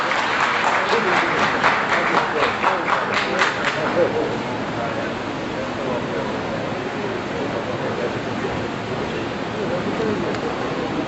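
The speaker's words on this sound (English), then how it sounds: "a big lot of applause for all the prize winners" A hall audience applauds prize winners at a medical institute's golden jubilee foundation day, giving about four seconds of sharp, rhythmic clapping that fades into a steady crowd hubbub.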